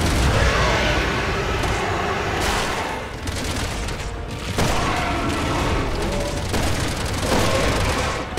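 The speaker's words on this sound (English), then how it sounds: "I've been shooting him in the face with the sniper rifle." Sniper rifle fire in the Resident Evil 6 video game: heavy booming shots and dense gunfire crash loudly through a constant roar of combat, with brief dips between bursts.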